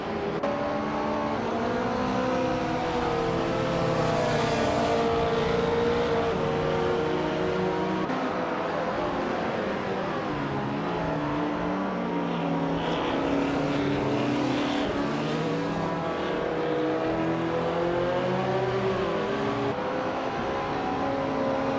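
Several race cars in a racing video game roar together in a continuous, dense engine drone, with pitch rising and falling as they accelerate and jostle through the pack, steady and loud throughout without voices.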